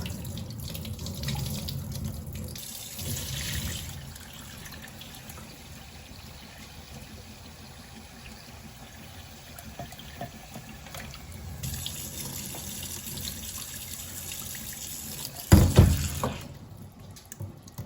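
Water from chopped potatoes is poured out of a pot into a sink, a steady gushing splash that runs on for several seconds and ends with a louder burst of pouring near the close.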